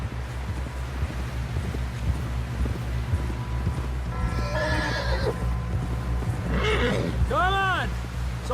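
A horse in Red Dead Redemption 2 whinnies loudly near the end, with hooves clopping and rustling underneath, while voices speak throughout over a low steady rumble.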